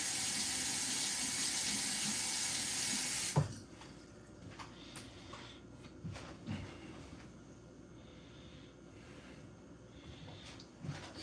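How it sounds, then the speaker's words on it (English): Tap water runs steadily into a kitchen sink while a spoon is rinsed, a loud broadband rush for the first few seconds before cutting off, followed by quieter clinks and handling sounds. "I'll go rinse that spoon off real quick"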